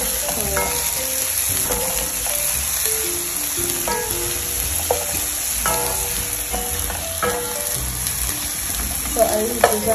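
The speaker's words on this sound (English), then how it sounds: "My bacon is like cooking. I don't want it to like overcook." Bacon sizzling loudly in a pan, a continuous close crackle and spatter with scattered pops over ten seconds.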